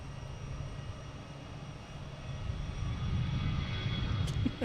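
An airliner inbound from Iceland approaches Boston Logan, a steady distant jet engine rumble that gradually builds louder over a few seconds.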